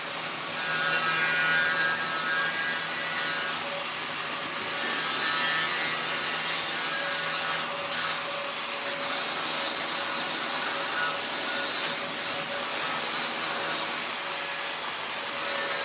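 Gas tank on a 1968 Chevrolet C10 being trimmed for a gas cap opening, a steady loud rasping, scraping cut with brief pauses and repeated strokes, close and continuous with no talk.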